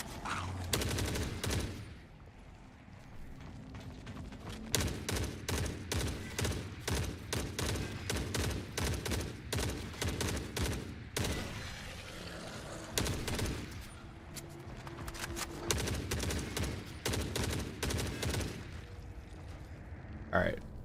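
Sustained automatic gunfire in Forever Winter hammers away in rapid, dense volleys, loud and close. A short lull comes early on and the fire thins briefly midway before resuming.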